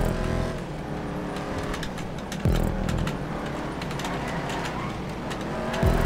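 A car engine drones steadily during a GTA 5 Online stunt race, rising and revving with a sharp shift midway, loud and close throughout with no talk over it.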